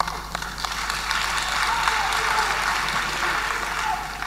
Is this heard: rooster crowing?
no